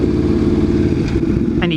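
Motorcycles rumble and rev at a bike night gathering, a loud continuous engine drone close by, with a voice briefly talking over it near the end.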